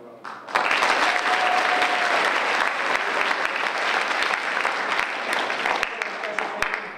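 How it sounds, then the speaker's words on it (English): Crowd applause at a high school media awards night, starting abruptly and holding as a dense, steady wash of clapping for about six seconds with a faint voice heard under it. "let's give them a round of applause"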